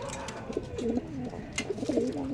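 Young pigeons from a breeder's brood coo softly in low, rolling phrases, fairly faint against a steady background hum.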